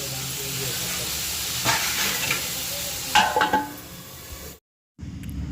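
Tomatoes fry in a pan for an egg pasta curry, a steady close sizzle broken by scraping stirring strokes, then a short silent gap before the frying resumes.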